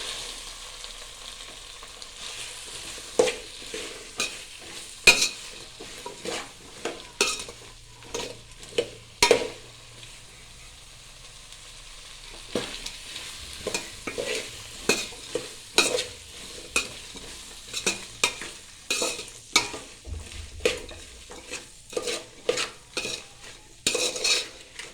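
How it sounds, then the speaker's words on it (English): Potatoes frying in oil are stirred in a pan for masala rice, with a steady soft sizzle under repeated close scraping and clinking strokes of a spoon that come in irregular bursts throughout. "We will add the potatoes which I have taken. And now we will mix it well in the oil."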